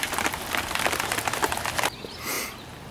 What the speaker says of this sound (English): and man, it's raining.